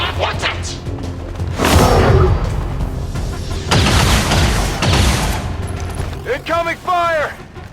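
Gunfire in XCOM 2: War of the Chosen: heavy bursts of shots and booms swell and fade over several seconds, loud and close, and a voice calls out briefly near the end.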